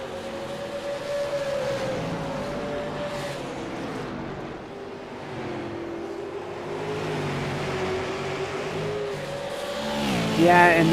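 Super late model stock cars running laps in single file at Nashville Fairgrounds Speedway, their engines a steady, distant drone that rises and falls throughout, with a commentator talking over them.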